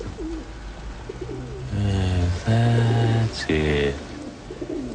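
Pigeons coo while pecking at scattered seed, deep throaty calls repeating close by in several rolling phrases, with a voice speaking briefly.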